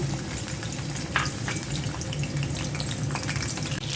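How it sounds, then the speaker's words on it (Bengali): Whole garlic cloves frying in hot oil for a vegetable pickle, a dense continuous close sizzle and bubbling with a few sharper pops and stirs. "আমি রসুনটা তেলের মধ্যে দিয়ে দিচ্ছি।"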